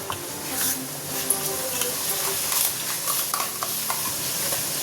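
A spice paste for potato paneer biryani fries in a pan, its steady sizzle broken by repeated scraping and stirring strokes, close and fairly loud.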